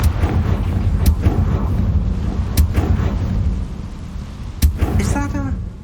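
Confringo, a fire spell in Hogwarts Legacy, is cast, bringing sharp cracking bursts over a deep rumbling game ambience, then a fiery explosive impact near the end with a ringing tail.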